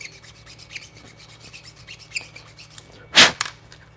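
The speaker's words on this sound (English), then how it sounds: "I'll just keep filing." A metal file rasps against a 3A3D slot car chassis during chassis prep, as a run of quiet, rhythmic scraping strokes with one louder, sharper scrape near the end.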